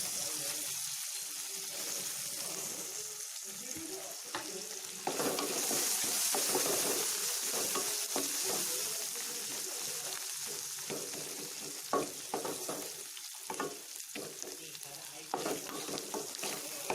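Hot oil tempering for lemon rice sizzles hard as squeezed lemon juice hits it, a close, crackling hiss that surges midway, with spoon stirs and small clinks scattered throughout.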